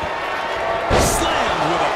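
A wrestler slammed hard onto the mat in the WWE 2K24 wrestling game during a women's tag team title match, a single heavy thud with crowd noise and ongoing commentary.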